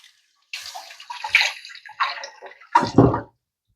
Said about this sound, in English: Rinse my hands and then we'll get that jarred up.